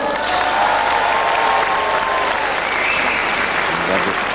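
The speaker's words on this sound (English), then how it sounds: "To hear that crowd really appreciating a magnificent move there by Marty Jones" A wrestling crowd roars and applauds a move in a British light heavyweight bout, loud, dense and sustained throughout, with a commentator speaking over the din.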